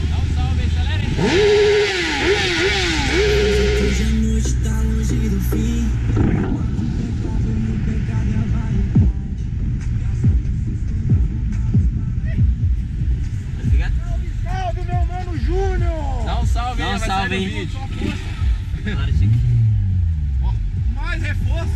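A car engine revs loudly and steadily nearby through a long stretch, rising and falling, with people talking and music-like tones over the rumble.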